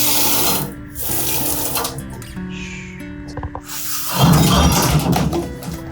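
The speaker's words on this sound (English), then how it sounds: "He does not like the water." Water gushing from a tap while a nervous shelter dog is bathed, a steady splashing rush that dips briefly midway and then surges louder near the end, with no talk.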